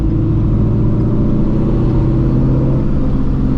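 A supercharged Shelby GT350 on Nitto NT555R2 drag radials accelerates hard along a road, a loud, steady, close engine roar heard from inside the car without a break.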